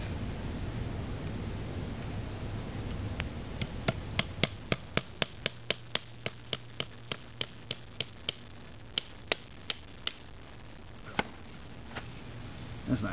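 Sharp hammer blows splitting a poplar branch, a series of close, loud knocks at a fairly even pace, sometimes in quick bursts and sometimes spaced apart, over quiet outdoor background.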